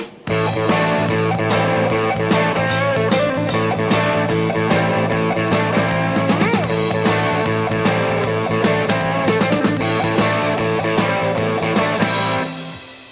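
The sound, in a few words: rock band playing heavy metal boogie rhythm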